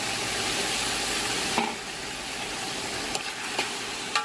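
Tomatoes being added to a frying pan for chicken pulao, a loud steady sizzle that drops abruptly partway, followed by softer frying and a few sharp clicks of stirring.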